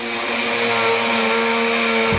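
A Hoover vacuum cleaner runs close and loud in a home, a steady whining motor drone with a strong constant hum, then cuts off abruptly at the end.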